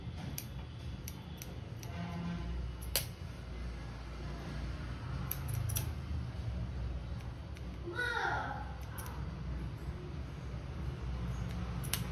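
Small scissors snip while a moustache is being trimmed, a few faint, sparse clicks and snips scattered through a quiet room with low background hum.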